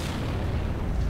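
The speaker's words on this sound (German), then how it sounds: "Da, die Granate rein." A grenade explosion in the video game Gears of War, a loud, dense burst of rumbling blast noise that fills the whole short moment, with no voices.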